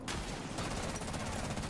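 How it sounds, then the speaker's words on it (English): Gunfire in Rainbow Six Siege as a window is shot open, a dense rapid burst of shots that carries on steadily and loudly through the whole moment with no talking. "I shoot your window open"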